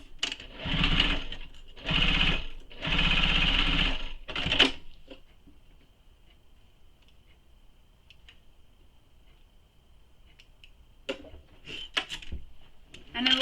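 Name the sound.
sewing machine sewing down the sides of a tote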